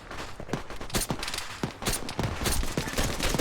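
Gunfire in Arma 3, a steady run of sharp rifle and machine-gun shots cracking close and loud, packed tightly with little pause.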